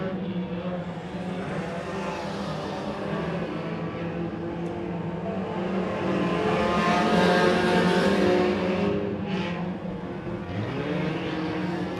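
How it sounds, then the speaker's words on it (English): Stock race cars circling a short track during a late-laps battle, engines droning steadily with a swell as cars pass close by, then easing again, with no talk over the sound. "Randy Larrabee, the fastest car on the track right now."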